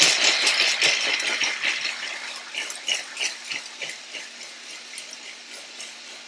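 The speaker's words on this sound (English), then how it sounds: "now we're going to give this a grind, a whiz, a blitz, and get it as fine as we possibly can" A blender grinding vegan muffin ingredients to a fine crumb, a rattling, whirring grind that is loud at first and gradually thins and quietens, with no voices.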